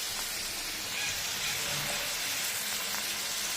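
Onion and bay leaf fry in hot oil in a wok, a steady hissing crackle that stays even and close throughout.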